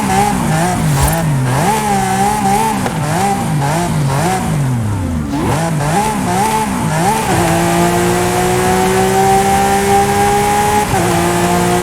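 A Lamborghini Aventador J engine in the Forza racing game revs loudly and up close, rising and falling through quick throttle swells before settling into a sustained high, steady drone, with a brief tire squeal.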